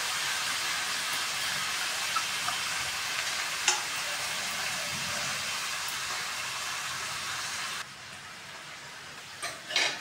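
Amaranth leaves fry and get stirred in a pan with toor dal, garlic and chilli spice, giving a steady close sizzle with light scraping stirs and a few clinks, alone without talk.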